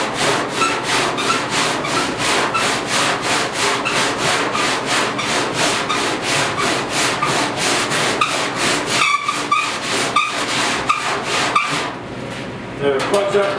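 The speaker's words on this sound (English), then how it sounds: "it's a lot easier sanding when it's soft." Steady back-and-forth sanding strokes on soft body filler on the door of a 1956 Mercury, loud and rhythmic, continuing without pause for over ten seconds with a brief change near the end.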